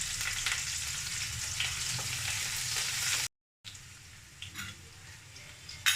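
Chopped onions with green chillies sizzle steadily in hot oil in a pan while a Bengali kachu shaak and chickpea dish is prepared. The frying hiss is dense and close, with a brief dropout and a few soft stirring scrapes.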